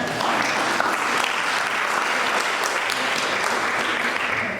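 A public lecture audience on human trafficking breaks into dense, sustained applause, a full wash of many hands clapping at once, loud and steady throughout.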